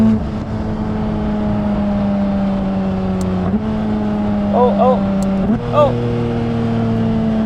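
Porsche 992 GT3 RS fitted with a RYFT exhaust, its engine holding a steady idling drone with a couple of brief rises in pitch as the revs climb and fall; a voice murmurs briefly over it.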